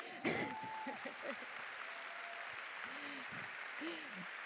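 An audience in a Toulouse student parish gathering gives moderate applause, with a voice rising briefly over the clapping near the start and faint murmurs underneath.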